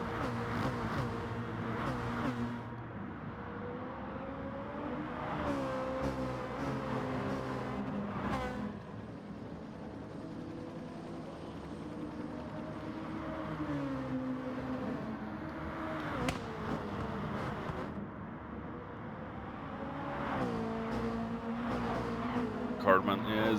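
Race cars lapping in a sim-racing league, engines droning and shifting pitch with repeated passes, under steady commentary talk throughout.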